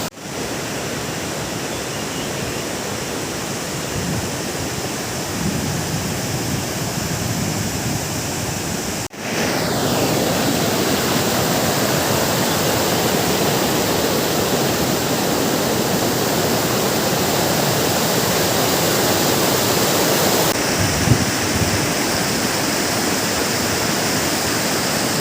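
Gunjiwada Waterfall in Andhra Pradesh roars with a steady, dense rush of falling water, loud and close throughout, with one brief dip partway before the torrent resumes at full strength.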